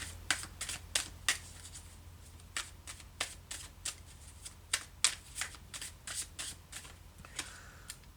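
Marchetti Tarot Royale tarot cards are shuffled close by in quick riffling bursts, over a dozen crisp slaps and flutters in an uneven rhythm, heard alone over a low steady hum.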